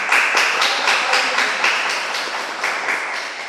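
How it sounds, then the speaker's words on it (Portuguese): A church congregation claps together in a steady, even rhythm, a dense burst of hands beating in unison that carries on for a few seconds, fairly loud, with no one speaking. "Uma salva de palmas."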